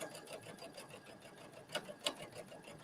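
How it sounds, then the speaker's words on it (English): A sewing machine stitches in the ditch on knit fabric beside cotton, a steady fast mechanical whirring and ticking at low level, with a couple of slightly louder clunks near the end. "So I'm stitching actually on the knit fabric right next to the cotton fabric."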